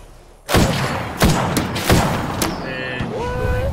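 Enemy gunfire in a shooter video game rings out as several loud, punchy shots spaced about half a second apart, close and heavy, with electronic game tones chirping near the end.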